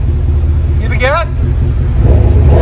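A GMC Sierra AT4 with a 6.2L V8 and Magnaflow exhaust rumbles deeply and steadily, swelling slightly as gas is applied. A short voice is heard over the engine.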